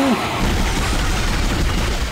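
Sustained gunfire from the Dead Space video game, a dense continuous barrage that stays loud and steady throughout with little pause between shots.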